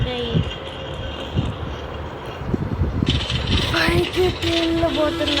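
A train rumbles and clatters along in the video game Barry's Prison Run, a steady low mechanical roll with scraping and a rising whine midway, while a person talks over it throughout.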